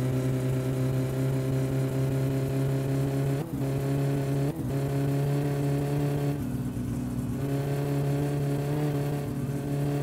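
A car engine in My Summer Car drones loudly and steadily at high revs for the whole stretch, with two brief dips and a short wavering patch, and no talking over it.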